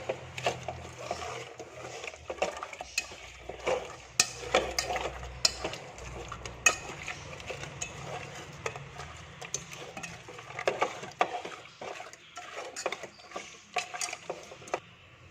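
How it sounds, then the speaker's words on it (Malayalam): Prawns are mixed by hand or spoon with turmeric, chilli and meat masala powders in a bowl, giving irregular close clicks, taps and scraping knocks in uneven bursts, with no talking. "നന്നായിട്ടങ്ങ് മിക്സ് ചെയ്ത് കൊടുക്കുക."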